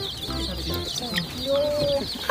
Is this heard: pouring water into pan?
no